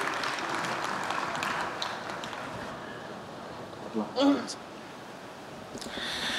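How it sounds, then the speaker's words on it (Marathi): An audience applauds at the Dharmaveer 2 official trailer launch event, with dense, steady clapping that slowly tapers off, then a brief louder burst near the end. "जोरदार टाळ्या एकदा"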